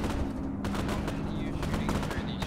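Rapid gunfire rattles on without pause in a war video game, a dense, loud burst of overlapping shots with faint voices underneath.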